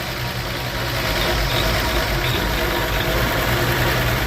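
A 1961 Chevy Bel Air engine idles steadily after a new starter goes in, a loud close rumble with a low throb that runs without a break.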